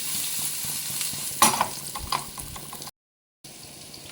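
Pumpkin cubes seasoned with pepper and salt sizzling fast in a frying pan, a steady fry punctuated by a few scraping stirs, then a brief silence before the sizzle resumes.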